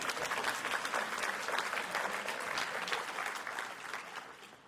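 Audience applause at a small business expo: a dense burst of clapping from a crowd that holds strong for several seconds, then begins to taper off.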